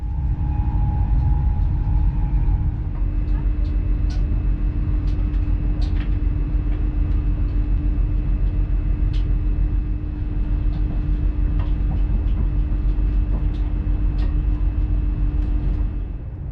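Steady low rumble and hum inside a GWR Intercity Express Train carriage at speed between Exeter and London, with faint rattles and ticks scattered through, continuous and fairly loud.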